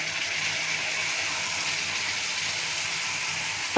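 Taro paste mixed with chili paste goes into a hot pan, giving a steady broadband sizzle and hiss that holds evenly throughout, close and moderately loud, with no talking over it.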